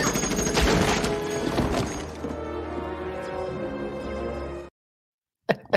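A gunshot headshot scene from the film Starship Troopers, with a dense burst of loud shots and impacts that settles into a sustained rumbling tail. The sound cuts to silence, then two faint sharp clicks follow.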